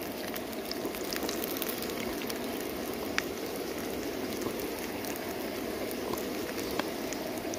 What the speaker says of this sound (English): It's only sort of lightly frying them for that one, like a hand cooked crisp.